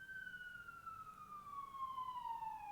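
A siren sound effect in a tabletop game session wails as one long tone sliding gradually lower, faint and distant against low background hiss, with no voices.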